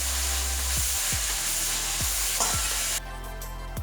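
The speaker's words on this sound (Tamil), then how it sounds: "இந்த சமயத்தில் முட்டைக்கோஸ் சேர்த்துக்கோங்க. அதோட உப்பு சேர்த்து நல்லா வதக்கி விட்டுக்கோங்க." Cabbage with salt sautéing in a kadai for kothu parotta, a steady close sizzle punctuated by several rhythmic scrapes and knocks of a spatula against the pan, with no talking.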